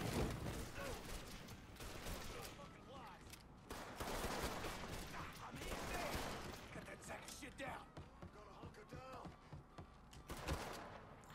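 Repeated heavy shotgun blasts and other gunfire in the game Mafia III, loud and close, with shots scattered irregularly across the whole stretch and a voice talking over parts of it.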